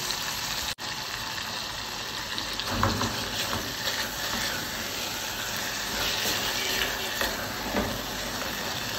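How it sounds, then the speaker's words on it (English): Minced beef frying in a pan, a steady dense sizzle with bright crackling hiss that stays loud and close throughout, with occasional stirring scrapes and a brief dip near the start. "So I'm going to leave this to fry"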